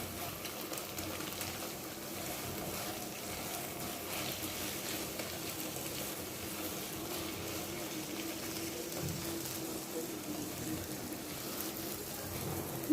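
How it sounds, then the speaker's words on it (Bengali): Salted okra fries in a pan with a quiet, even crackle and sizzle that keeps going without a break. No voices can be heard. "ভেন্ডি এভাবে নেড়ে চেড়ে দুই তিন মিনিট ভাজি করে নিব"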